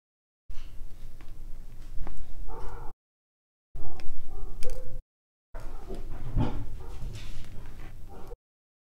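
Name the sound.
dogs barking at neighbours next door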